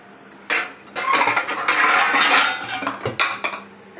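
Metal clatter and scraping as a wok is set down on a home kitchen stove, a few sharp clanks followed by a sustained rattling scrape, close and fairly loud, with no talk.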